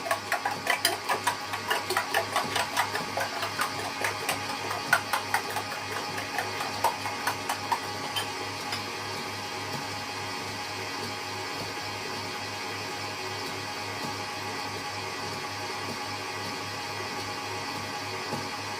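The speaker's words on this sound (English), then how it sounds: "so I am going to now beat my eggs together" Electric mixer beating eggs for a vanilla sponge cake, a rapid rattling whir with rhythmic clatter at first that settles into a steady motor hum, moderately close.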